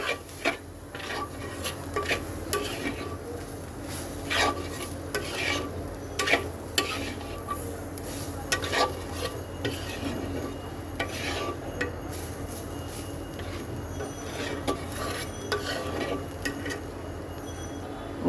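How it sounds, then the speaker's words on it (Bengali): Prawns with turmeric, cumin powder and spices stirred in a pan: repeated metal spoon scrapes and clinks against the pan over a faint sizzle, steady and close throughout. "এবার সব কিছু একসাথে সুন্দর করে মিশিয়ে"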